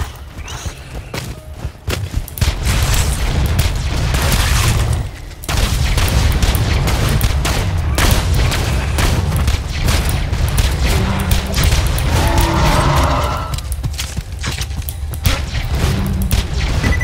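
Gunfire from a gun in the Borderlands video game, a dense, loud stream of booming shots and impacts that runs almost without pause, with only a short dip partway through.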